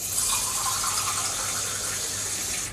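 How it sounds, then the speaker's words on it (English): Cold water pours steadily into a Turkish coffee pot, a continuous close hiss and splash with no pauses, in a home kitchen. "you need to put some water in your pot"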